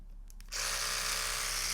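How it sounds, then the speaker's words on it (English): An electric toothbrush cleans dirt from the grills of a Commodore Plus/4 computer. It switches on after a few faint taps and keeps up a steady, close, high buzzing whine. "these are electrical toothbrushes which vibrate"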